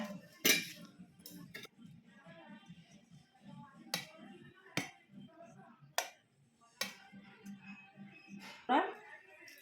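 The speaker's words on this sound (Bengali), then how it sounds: "এবার আমি ভাতটা বেড়ে নিচ্ছি" Rice is served onto a plate with a utensil, sounding as sparse sharp clinks and scrapes spaced a second or two apart, with quiet talk in between.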